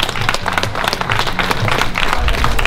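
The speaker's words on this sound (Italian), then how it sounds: "Nell'angolo rosso, grande ritorno del nostro Yakuza, Emanuel Caverna, un applauso." A crowd at an underground fight club in Rome's public housing blocks applauds a returning fighter with dense, loud clapping that carries on steadily throughout.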